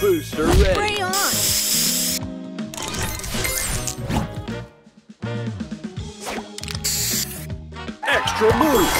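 A spray booster effect fires in the Match Masters puzzle game, a hissing burst layered with clattering, ratchet-like mechanical ticks and crashes, under a lively announcer voice and game jingles.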